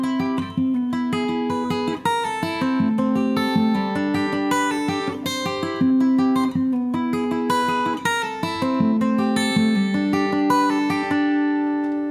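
A brisk acoustic guitar riff from the verses runs continuously, quick plucked notes and strums tumbling together, loud and close, with no voices.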